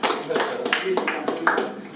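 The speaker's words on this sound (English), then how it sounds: "a bigger round of applause, please" An audience at an interview session event gives a short round of applause, brief irregular claps heard alongside a speaking voice.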